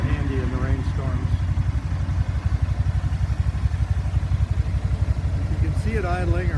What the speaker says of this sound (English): You can see it idling or hear it idling at about 1400 RPM.